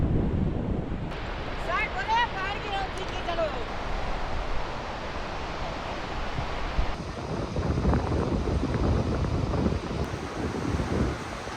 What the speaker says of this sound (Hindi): दूसरी तरफ ये पानी बहकर आ रहा है तेज़ी से